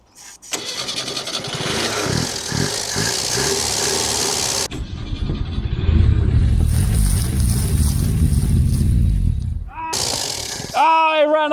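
An old French classic car engine that had not run in 26 years cranks with the choke half out, sputters, then catches and roars, revving unevenly up close while people exclaim excitedly over it.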